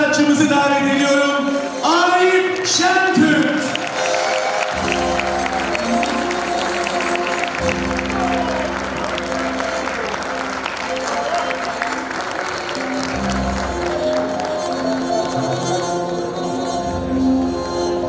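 A concert audience in Bayrampaşa applauds and cheers to welcome a singer onto the stage, with sustained dense clapping throughout and band music playing underneath.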